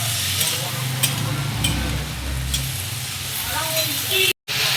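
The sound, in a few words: curry stir-frying in a pan after a little water is added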